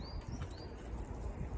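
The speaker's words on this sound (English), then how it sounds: "I can see birds flying through the sky at the moment." Birds flap past overhead in a winter woodland, a soft steady fluttering of wings close by with a couple of faint high chirps above a low outdoor rumble.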